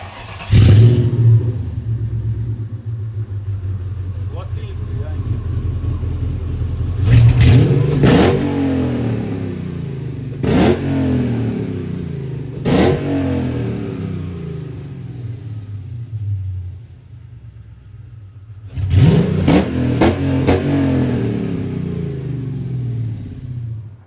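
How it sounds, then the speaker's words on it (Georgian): A Mercedes-AMG GT R with a V8, tuned to about 1000 horsepower, idles with a deep rumble and then gives several sharp, loud throttle blips, each falling quickly back to idle. Heard close up, with no talk. "8 ცილინდრის ხმა ყველაფერს უხდება"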